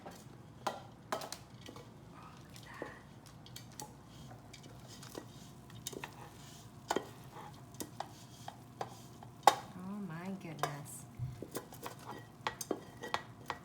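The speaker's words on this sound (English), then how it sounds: "you can hear the little bits of rice cereal crackling" Soft crackling and faint clicks of rice cereal in melted marshmallow, with occasional stirring and scraping sounds from a pan, quiet and close, with no talking.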